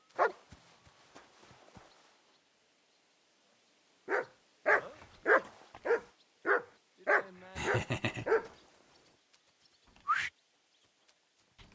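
A dog in the video game Kingdom Come Deliverance 2 barks in a series of about eight sharp, separate woofs, nearby and fairly loud, preceded by a few faint sounds and followed by a single later bark.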